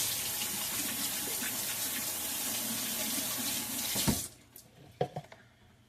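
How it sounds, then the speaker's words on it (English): Hands rinse under a running tap: a strong, steady gush of water into a sink for about four seconds, then it shuts off, leaving a few faint clicks and splashes. "Let me rinse my hands real quick again."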